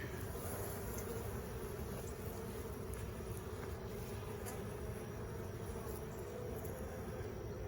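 Steady droning buzz of many bees around hives, continuous and fairly close, with a high whine layered over a dense hum and no talking.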